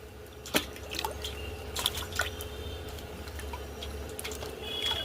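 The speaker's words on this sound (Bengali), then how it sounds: "এখন আমগুলো ধোয়া হবে" Freshly picked mangoes being washed in water, with light splashes, drips and handling clicks over a low background hum, close and fairly quiet, no speech.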